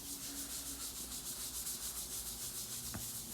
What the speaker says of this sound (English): I'm putting some sander sealer on